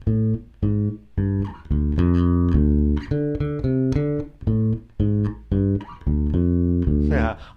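Bass guitar plays the classic riff from a song, loud and close, with thick low notes in a repeating rhythmic phrase.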